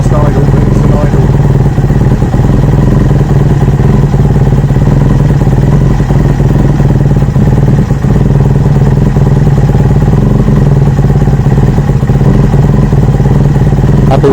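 A project motorcycle engine idles on full choke, loud and close with a steady rough clattering run, continuing unbroken for over ten seconds.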